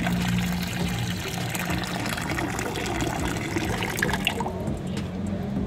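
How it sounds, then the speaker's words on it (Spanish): Water splashing and trickling as some is taken out of a guppy aquarium, a continuous mid-level liquid wash with small gurgles that eases off near the end. "vamos a sacarle un poquito de agua."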